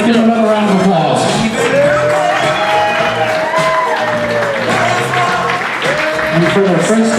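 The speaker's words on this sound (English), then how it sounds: "Let's give another round of applause." Wedding guests applaud the newly introduced couple with sustained, loud clapping from a crowd, with scattered cheers and whoops, filling the room for several seconds.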